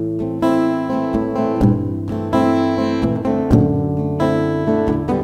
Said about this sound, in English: But if I'm palm muting, it sounds like this.